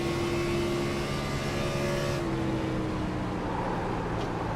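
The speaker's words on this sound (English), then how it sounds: "Let you enjoy some of the sounds of racing." A NASCAR Xfinity Series race car at speed at Darlington, heard from on board: a loud, steady engine whine that drops in pitch partway through as it shifts, then runs on.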